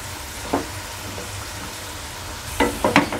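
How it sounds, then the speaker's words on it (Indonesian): Potato wedges frying crisp in oil over a low flame, a soft steady sizzle with a few brief louder crackles and stirring scrapes near the end, close and fairly quiet. "Kita goreng sekitar 1 menit lagi. Ini sengaja saya goreng dengan api kecil ya mams, biar matangnya itu sampai ke dalam."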